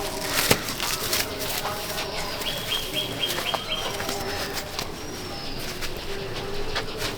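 Pigeons in a competition pigeon loft, soft cooing and scattered calls with occasional wing flutters and small knocks, fairly faint and close, continuing throughout.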